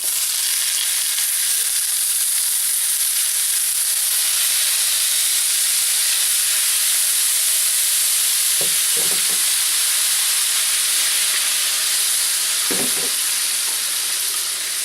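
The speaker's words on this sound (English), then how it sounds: "then we're going to add our shrimp and cook it to what we need" Shrimp frying in olive oil in a cast iron pan, a loud, continuous bright sizzle and hiss with a few brief clinks of stirring.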